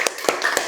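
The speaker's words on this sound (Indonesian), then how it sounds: "tepuk tangan untuk Arta" A few sharp hand claps sound in a classroom as pupils applaud a student, three quick separate strikes close by, brief and without speech.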